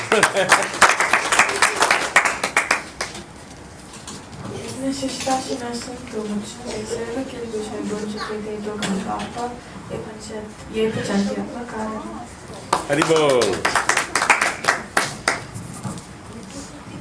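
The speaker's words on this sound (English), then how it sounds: "big round of applause to all the kids" Bursts of hand clapping from a group come at the start and again near the end, with a voice and singing or chanting in between.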